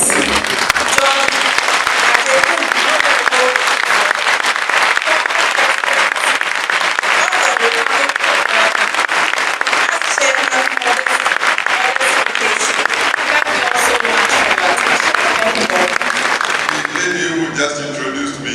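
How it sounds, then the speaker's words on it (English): Loud, sustained applause from a lecture audience welcoming a dignitary to the stage at an anniversary lecture, dense continuous clapping that fills the room and only begins to thin out at the very end. "With a resounding round of applause, please join me to welcome His Excellency, John"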